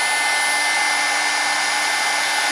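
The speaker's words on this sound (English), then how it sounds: "Let me heat it up for a second." A heat gun blasts a steady, loud, unbroken roar while melting embossing powder on a handmade winter card, close and alone with no talking.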